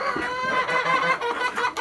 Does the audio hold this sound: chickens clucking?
yes